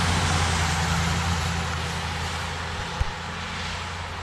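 Steady, loud engine drone of a bus driving past Acadia National Park in rainy Maine, a broad constant rumble with a brief thump near the end and no voices.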